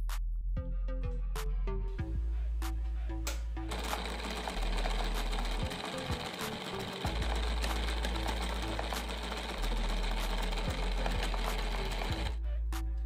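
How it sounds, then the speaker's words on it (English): Homemade PCB etching machine agitating ferric chloride, a loud mechanical whirring and rattling motor that stops briefly and restarts several times, close by with no talking. "For etching purpose, we are adding ferrous chloride. It's a homemade etching machine."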